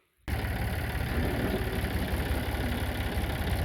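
A farm tractor idles steadily and close by in a village setting, a continuous low engine rumble that starts abruptly after a brief silence and holds even throughout.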